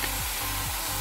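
Garlic and onion sizzle in really hot vegetable oil, a steady, close hiss of frying with a faint low hum beneath, continuous through the brief moment with no voices.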